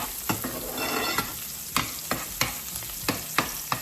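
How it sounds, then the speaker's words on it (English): Steady, loud sizzling of shrimp frying in a pan, with repeated sharp clacks of a utensil stirring and scraping at irregular intervals. "you can hear some of that sizzling going on"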